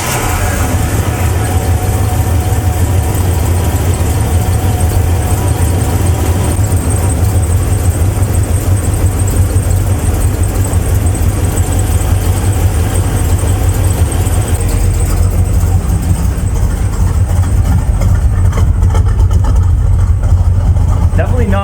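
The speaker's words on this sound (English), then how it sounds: "Let's get the idle set on this thing, and then you guys can finally hear what this camshaft sounds like." Car engine with a new camshaft idling steadily around 550–600 rpm, a continuous low rumble that stays even and loud throughout with no talking over it.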